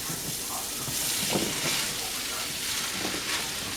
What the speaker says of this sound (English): it's going to help sear these pieces of squash up here so they get a little color to them